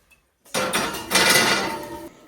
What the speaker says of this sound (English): So I'm gonna put my seasoned cast iron in to get ready for my cornbread.